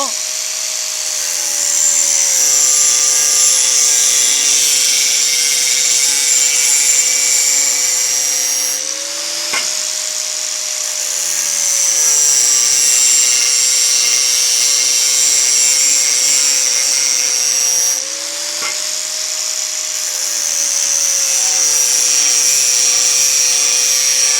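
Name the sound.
angle grinder cutting square steel pipe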